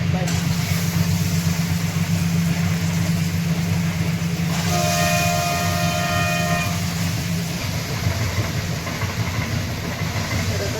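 A train rumbles steadily close by, with a horn sounding for a couple of seconds midway through the passage.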